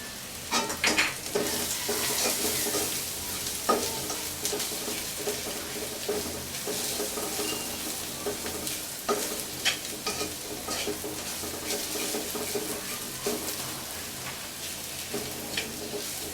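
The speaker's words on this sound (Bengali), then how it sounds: "তখন আমি এর মধ্যে একটু কালি জিরা দিব কালি জিরার ফোড়ন আর কি" Kalonji (black cumin) seeds tempered in hot oil for a Bengali sweet pumpkin fry, with steady sizzling and repeated stirring scrapes of a spoon in the pan, close and continuous throughout.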